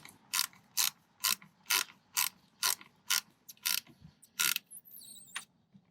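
A wrench ratchets on a car battery terminal of a 2017 Nissan Pathfinder, sounding a rapid series of about a dozen sharp, evenly spaced clicks, close and clear against quiet surroundings.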